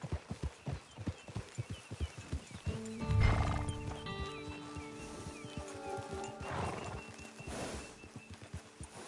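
In the video game Red Dead Redemption 2, a horse's hooves clip-clop in a steady walking rhythm, broken by a loud, close neigh and a second, longer whinny, with no talk over it.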